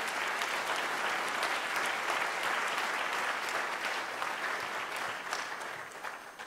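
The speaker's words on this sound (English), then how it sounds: "Give them a big San Antonio round of applause." A large memorial gathering in San Antonio, Texas, applauds warmly as guests from around the state are honored, a thick sustained wash of clapping that eases slightly toward the end.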